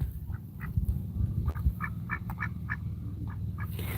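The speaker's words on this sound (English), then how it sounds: "Did you hear my duck Mochi?" A pet duck quacks in a series of short, evenly spaced calls over a low engine-like hum, heard from nearby during a kayak outing, with roughly ten quacks spread across the stretch.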